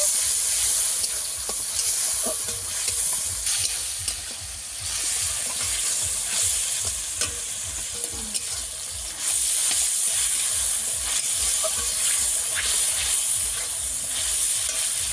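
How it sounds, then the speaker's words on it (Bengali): Ginger paste and tomato paste frying in hot oil with onion, a loud close sizzle and hiss with repeated scraping stir strokes pulsing through, continuous and without talk. "তেলের মধ্যে আমি আদা বাটা দিয়ে দেব আর টমেটো পেস্ট দিয়ে দেব। ভালো করে কষিয়ে নেব।"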